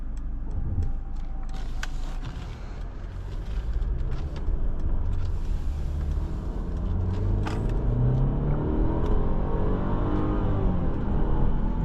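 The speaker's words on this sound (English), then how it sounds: "Pretty good acceleration actually." A 2023 Mercedes-Benz GLE 350 with a 255-horsepower engine accelerates, heard from inside the cabin as a deep, steady engine rumble that rises in pitch as the car gains speed. No one speaks.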